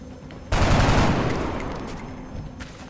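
A sudden loud burst of gunfire from XCOM: Long War, a rapid volley that strikes hard and then trails off into a fading rumble, with no talking.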